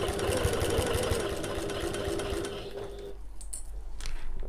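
Sewing machine stitching a getaway bag with the needle starting down, a steady close motor hum and rapid needle rhythm for about three seconds, then a brief lull before it resumes at low level.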